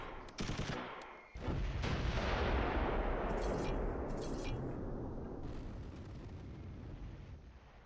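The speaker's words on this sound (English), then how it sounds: "Put some rounds in here with the mortars." Mortar fire in the Close Combat III war video game: a couple of quick reports followed by a loud, rolling blast that slowly fades over several seconds.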